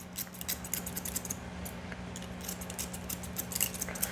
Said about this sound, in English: I just take my scissors and I just cut along the spine